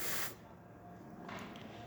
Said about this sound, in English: We're going to run the water.